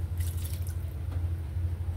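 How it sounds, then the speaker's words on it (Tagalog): Water poured into a cooking pot for mussels, a steady low trickle and splash with faint dripping on top, close and continuous throughout. "So, lagyan mo natin ng tubig."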